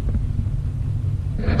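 A Pontiac GTO engine rumbles low and steady nearby, with a slight rise in revs at the end.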